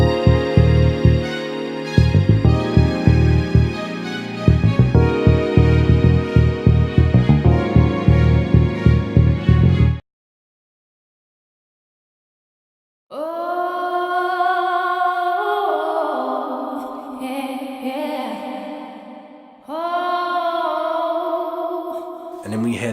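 Beat with drums and layered strings, then after a few seconds of silence, a warm sustained string and electric piano chord progression, loud and full with no voices.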